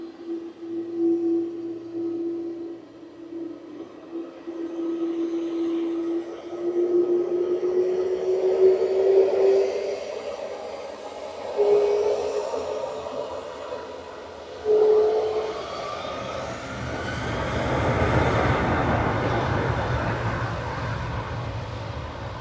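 Airbus A330-300, registration TC-JOG, taking off from Manchester Airport on flight 1996 to Istanbul: a rising engine whine with sustained tones builds gradually, then a broad, loud roar swells over the final seconds.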